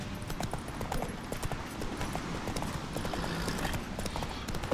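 Steady, fast hoofbeats from Roach, Geralt's horse in The Witcher 3 video game, pound close and loud in a continuous galloping rhythm, with a faint voice barely present beneath.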